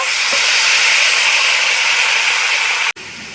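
A splash of water hits pointed gourd frying with salt and turmeric in a hot pan, giving a loud, steady, close sizzling hiss that holds for about three seconds before a sudden brief break.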